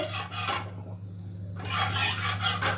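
Soy sauce being stirred into oil in a pan while making chilli chicken, with rough scraping strokes of a spatula against the pan in short bursts separated by a brief lull.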